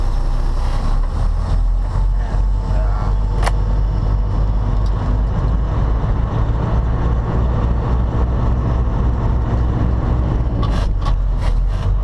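Semi truck cruising after a brake repair, its engine and tires producing a steady, loud low rumble that stays constant throughout, with a brief sharp click partway and faint rattles near the end.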